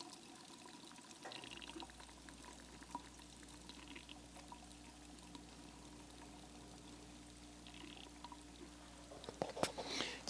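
Car battery faintly bubbling and fizzing as it charges, a quiet close-miked trickle of tiny pops over low hum, with a few louder clicks and handling rustles near the end.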